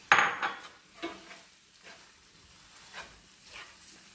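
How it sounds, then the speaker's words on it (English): Chilli cheese dip ingredients are dumped into a pot, landing with one sharp clattering thud, then a few faint knocks and scrapes in a quiet kitchen. "now we're going to take all of these ingredients here and dump them in the pot"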